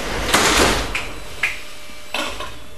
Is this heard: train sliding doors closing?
yes